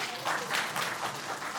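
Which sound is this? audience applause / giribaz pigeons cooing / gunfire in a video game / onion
audience applause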